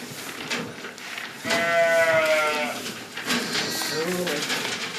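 Sheep and lambs bleating in a stable in Muotathal, Switzerland, with a long wavering bleat in the middle and a shorter one after, close and loud over scattered barn noise and a person talking.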